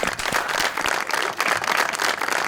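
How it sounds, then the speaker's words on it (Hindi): Studio audience applauding on a talk show, a brisk burst of many hands clapping together, steady and fairly close, with no voices over it. "तालियां"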